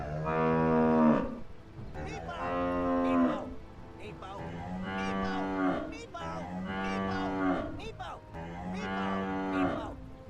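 A huge esports crowd at The International 2016 (TI6) moos in unison, five long, swelling drones with short gaps between them, loud and resonant like a mass of voices imitating cattle.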